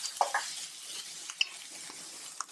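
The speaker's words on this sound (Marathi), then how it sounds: "आणि हा आपल्याला कांदा छान सोनेरी रंग येईपर्यंत भाजून घ्यायचा आहे" Onion and dried coconut frying in a pan for a spicy soybean curry, a soft continuous sizzle with a few light scrapes of the spoon, close and fairly quiet, no talking.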